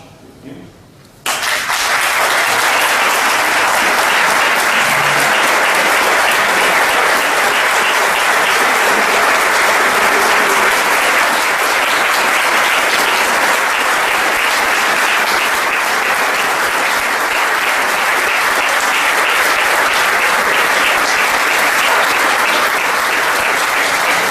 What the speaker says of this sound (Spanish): debemos levantarnos y darles una cerrada ovación para que sepan que los admiramos.